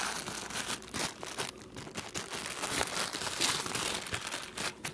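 Plastic and cardboard packaging from a Toguard 4.0 dual lens dash cam mount crinkles and rustles up close in irregular bursts, with no talking.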